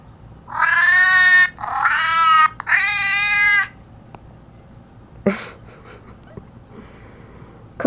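A male cat meows three times in quick succession, loud and close, each call a drawn-out harmonic cry, followed by a few soft thumps and a brief rustle.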